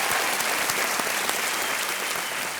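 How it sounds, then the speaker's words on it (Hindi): A studio audience on the Indian TV quiz show Kaun Banega Crorepati claps steadily throughout, a dense, sustained round of applause from many hands at close range. "तालियों के साथ इनका अभिनंदन।"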